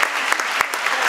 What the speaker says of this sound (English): a round of applause for our two amazing MCs